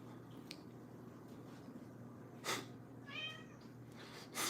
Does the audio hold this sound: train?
no